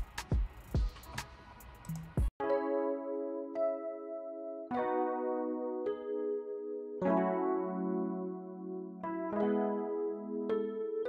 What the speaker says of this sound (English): It's the Mark II Rose from Expand.